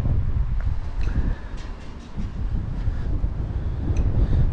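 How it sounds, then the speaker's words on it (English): Steady outdoor wind rushing and buffeting on Colle San Giusto hill in Trieste, Italy, a low roar that swells and dips throughout with faint scattered sounds in the background. "Today it's windy, but it's not extremely windy"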